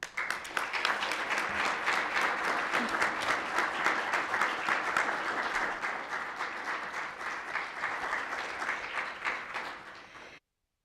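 A school district board meeting audience applauds a retiring elementary teacher, sustained clapping that holds strong for most of the stretch, thins near the end, then stops abruptly into silence.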